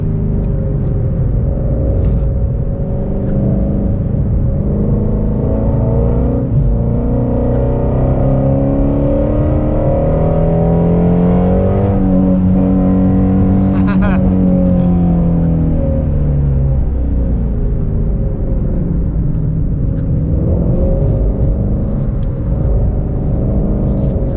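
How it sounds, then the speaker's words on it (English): A 2020 Ford Mustang Shelby GT350R engine revs hard during a drift in the rain, a loud continuous roar that climbs in pitch and then falls back, with no talking. "Breathe on the throttle and she's gone."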